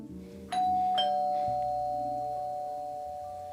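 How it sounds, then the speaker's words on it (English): Doorbell at a home ringing a two-tone chime, with a clear ding followed by a sustained tone that slowly fades, heard alone against a faint background hum. "I think that was the doorbell."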